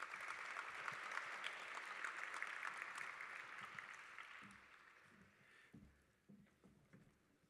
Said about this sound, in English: Let's give our sophomores a big round of applause